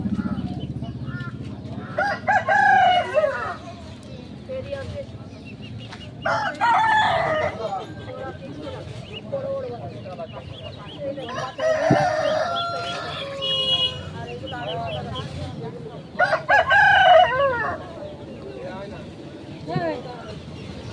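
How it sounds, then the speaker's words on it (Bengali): Roosters crow and chickens cluck in repeated loud bursts at a roadside duck and chicken market, with voices talking in the background between calls. "এই জায়গাটায় কিন্তু হাঁস মুরগি বিক্রি হয়"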